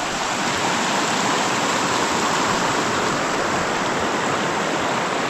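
Clear mountain stream rushing through a Carpathian forest after rain, a steady, dense broadband wash of flowing water, close and loud, unbroken throughout with no voices.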